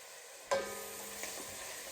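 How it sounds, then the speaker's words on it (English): Vegetables hit hot olive oil in a pot over medium heat, a sudden soft sizzle that continues quietly with a faint stir, no voices. "I heated the pot over medium heat, added olive oil, and sautéed the vegetables with salt and pepper"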